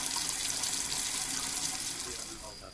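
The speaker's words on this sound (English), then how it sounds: "You turn an enormous blue marble bathroom sink with several golden faucets on" Game sound of water running from the golden faucets of an enormous blue marble bathroom sink, a steady close hiss of flowing water that tapers off slightly at the end.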